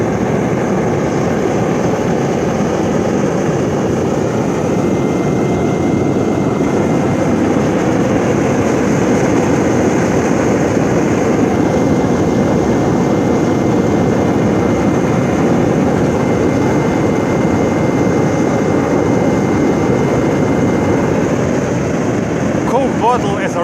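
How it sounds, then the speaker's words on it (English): A homemade burner fed by waste cooking oil with a cheap blower roars at a ground forge, a loud, steady, broadband rush that holds unbroken from start to finish close to the listener. "Now this is oil power, a distinct roar and a bright orange flame."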